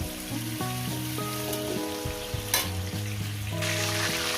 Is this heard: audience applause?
no